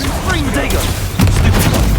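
A spell explosion from the Bombarda charm in a Harry Potter video game: a deep boom bursts in just past the midpoint and rumbles on loudly, over a low game soundscape.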